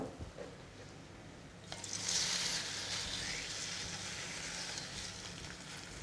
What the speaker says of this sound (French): Un filet d'huile d'olive dans notre casserole et on va bien le faire colorer.